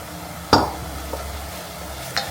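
Roasted rice semolina is stirred into a boiling mixture in a pot, giving a few soft scraping strokes over a steady low bubbling hiss.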